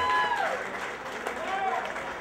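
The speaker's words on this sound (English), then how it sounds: "Give them a round of applause as well" A crowd at a Harold Ford Jr. political evening event claps and cheers steadily for about two seconds, with a few whistles rising above the broad, moderately loud applause.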